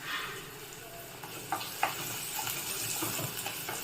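Onions sizzle steadily in a hot pan over a medium flame while a utensil stirs them, giving a few light scraping clicks, close and fairly quiet.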